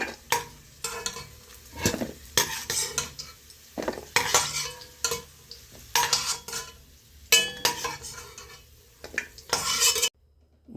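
Semolina for rava laddu is slowly roasted in a pan, with repeated scraping and clinking of a metal spatula against the pan in uneven bursts over a faint sizzle, close up, ending in a brief silence.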